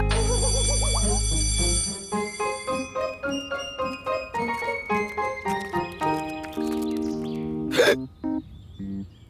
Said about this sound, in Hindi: मुझे इस हिचकियों से कैसे छुटकारा मिलेगा?